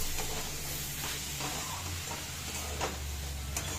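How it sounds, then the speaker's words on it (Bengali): Boiled kabuli chickpeas are stirred in a frying pan of spiced masala for chole, giving faint, scattered scraping clicks over a low, steady kitchen hum with no talking. "তো এখন আমরা সিদ্ধ করে রাখা কাবলি ছোলাটা দিয়ে দেব, দিয়ে ভালো করে এটা নাড়াবো"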